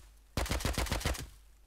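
Rapid gunfire in the game Rust, about eight evenly spaced sharp shots in a quick burst lasting under a second, loud and close, then silence.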